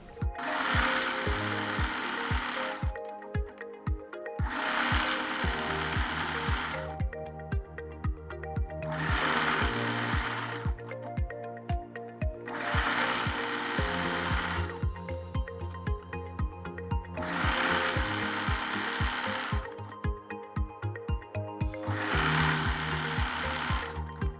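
A sewing machine stitches elastic onto Brazilian briefs in long steady whirring runs, with short pauses between the bursts of rapid stitching.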